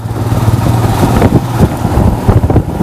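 A Bajaj Dominar motorcycle on the move, its steady engine drone running close and continuous under rushing wind buffeting the microphone.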